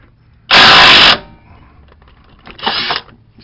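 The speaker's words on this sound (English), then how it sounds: "If you have one of these impact wrenches, it makes your life so much easier." An impact wrench loosens a 22mm bolt on a BMW E34 5 Series rear steering pitman arm, first in one loud half-second rattling burst and then in a second shorter, quieter burst after a pause.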